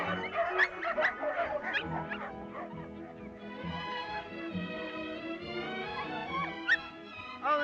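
A small dog whines and whimpers in high, drawn-out wavering tones with a few short yips, fairly quiet and close, heard without speech.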